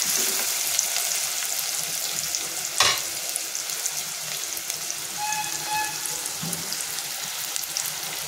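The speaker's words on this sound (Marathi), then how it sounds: "कांदा आपण छान असं परतून घ्यायचे।" Plenty of chopped onion sautés in a pan for a spicy zunka, giving a steady, close sizzle and frying hiss throughout, with one brief stirring clatter partway through.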